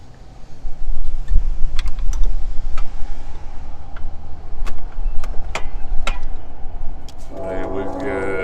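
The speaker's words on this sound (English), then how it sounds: "So now we're going to disconnect PCV hose." A PCV hose pulled off a car engine during routine daily-driver maintenance: sharp plastic clicks and snaps scattered over a steady low hum, close by, with a brief voice near the end.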